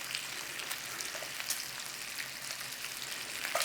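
Bacon frying in an oiled pan as water cooks off, a steady close sizzle with frequent sharp crackling spits and pops, no voices.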